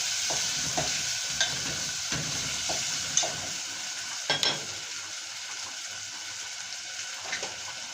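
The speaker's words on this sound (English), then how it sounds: "I stir." A vegetable pot with beef stock is stirred in a pan: a spoon scrapes and swishes in a loose rhythm over a soft, continuous sizzle, with a few sharper knocks against the pan and no talking.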